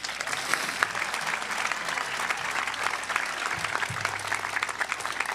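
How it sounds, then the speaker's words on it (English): A large audience at the North Hagerstown High School Class of 2025 graduation ceremony applauds in a steady, dense wash of clapping that holds at an even level throughout. "Can we give them one more round of applause?"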